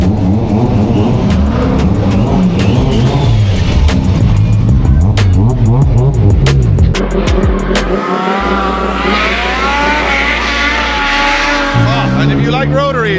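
A Mazda RX-7 rotary engine roars and revs with shifting pitch at a car event in New Zealand, crowd chatter and other engine noise mixed in throughout.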